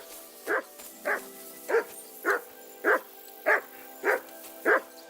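Eight evenly spaced dog barks in the video game Kingdom Come: Deliverance II, each short and clear at moderate distance over a quiet hum, with no talking.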